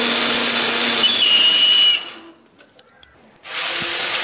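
A kitchen blender whirs loudly, grinding a spice paste of shallots, chili and turmeric with a little water, then cuts off abruptly for about a second and a half before the motor starts up again.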